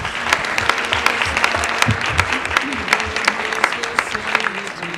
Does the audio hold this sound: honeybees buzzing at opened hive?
no